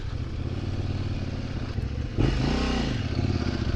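Kove 800X motorcycle engine running steadily on an off-road outing, a loud, continuous rumble with rough mechanical clatter that rises into a sweeping rev partway through.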